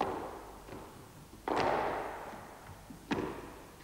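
A squash ball is struck with a racket on a court, two sharp close impacts about a second and a half apart, each with a bright crack and short echoing tail over quiet room ambience.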